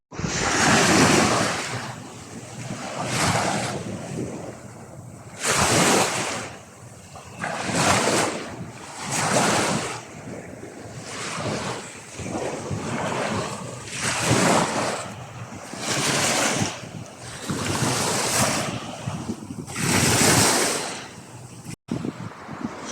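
Sea waves roll in and break on a sunny beach, loud and close, surging in a steady rhythm of about ten crashes with hissing wash and wind buffeting between them.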